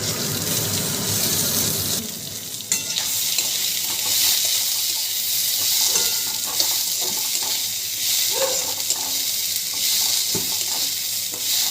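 Rice frying in oil and ghee with whole spices, a steady close sizzle with stirring scrapes and faint watery sounds throughout, no talking.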